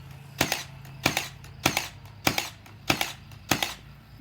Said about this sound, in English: Another advancement is they come out with a cordless nail gun.